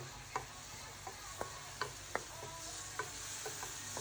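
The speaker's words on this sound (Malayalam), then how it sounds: "അതിലേക്ക് നമ്മൾ വേവിപ്പിച്ച് വെച്ചിട്ടുള്ള കടലയും കൂടി ഇട്ടുകൊടുത്ത് മിക്സ് ചെയ്യാം" Boiled chickpeas are mixed into sautéed onions in a pan, with soft, scattered taps and scrapes of a spoon over a faint, low sizzle, quiet and close.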